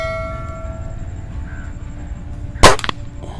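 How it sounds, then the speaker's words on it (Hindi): A single sharp air rifle pellet shot from a Cometa Fusion Galaxy, a loud crack with a short ringing tail over quiet background hum and a faint tone. "दो शॉट्स हो गई हैं, अभी तीसरी है जनाब।"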